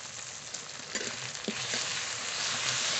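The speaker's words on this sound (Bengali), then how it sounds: "পেঁয়াজ টমেটো একটু কষিয়ে নিয়েছি, এবার বাটা মশলাটা দিয়ে দেব।" Ginger, garlic, cumin and green chili paste sizzles and fries in a pan with onion and tomato, a steady close crackle with a few stirring scrapes and no voices.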